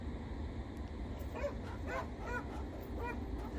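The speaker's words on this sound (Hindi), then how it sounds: "देखो कितनी तेज आवाज आ रही है कुत्तों की।" Several dogs yip and whimper in a short series of rapid, high calls, heard faint and at a distance over a steady background hum on a rainy night by a river.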